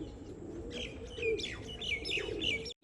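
Pigeons of the Punnu bloodline calling close by, a mix of high chirps and tweets over a soft, low cooing, continuous for a few seconds.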